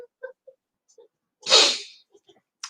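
One loud, close sneeze bursts out midway between soft short breaths and small mouth sounds, trailing off quickly into quiet.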